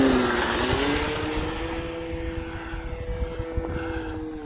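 An RC Sbach model airplane flies overhead on a cold winter day with snow on the ground, its engine giving a steady, fairly loud drone with a shifting pitch as it passes and lines up to land.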